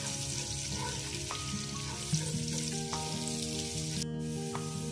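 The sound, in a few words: crushed garlic frying lightly in a pan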